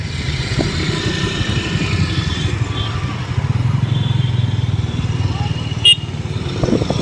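Motorcycle engines putter and hum steadily on a road crowded with people leaving the Ranguloo Ijtema gathering, several bikes close by with a brief horn-like blip near the end.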